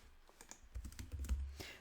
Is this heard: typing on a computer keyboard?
yes